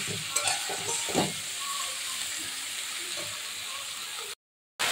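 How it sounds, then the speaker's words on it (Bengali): Gima greens sizzle and hiss steadily in a hot pan while being stirred, with a few scraping strokes early on, then the sound cuts out briefly near the end. "এই শাকগুলো সব দিয়ে দিচ্ছি, দিয়ে এবারে নাড়বো"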